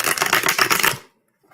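A deck of cards is shuffled, giving a close, loud burst of rapid fluttering riffles for about a second that stops abruptly into silence.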